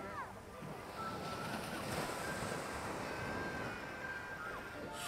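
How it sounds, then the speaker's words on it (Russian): Small waves break gently on a beach in Phuket, a steady, moderate wash of surf with wind rumble on the microphone. "Прибой. Волна есть, но небольшая."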